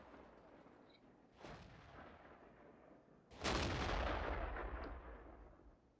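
Tank guns fire in World of Tanks, a French tier VI ARL V36 tank destroyer battling a StuG and a Ram: a fainter distant boom, then a loud, close blast with a rumbling tail, no talk.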